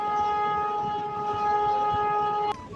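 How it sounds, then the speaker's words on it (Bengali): The Nakshikantha Commuter train, heard from on board after leaving Shibchar near the Padma Bridge rail line in Bangladesh, gives off a steady, droning whine layered over a low rumble, cutting off abruptly just before the end. "শিবচর ছাড়ার পরে আমাদের ট্রেনের গতি দেখুন"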